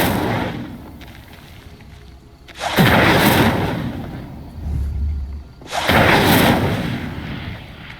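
Incendio fire spell bursts in Hogwarts Legacy, two loud whooshing blasts a few seconds apart, each a sudden roaring flare of flame that lingers and decays, with a low rumble between them.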